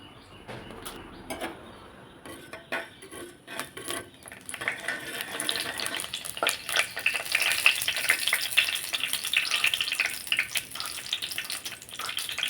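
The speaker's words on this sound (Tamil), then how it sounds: "கடுகு பொரியுது, தாளிப்பு போட்டுக்கலாம்." Mustard seeds splutter in hot oil for a tempering in a sprouted horse gram stir-fry; sparse crackles at first build into dense, rapid popping and sizzling, close and continuous.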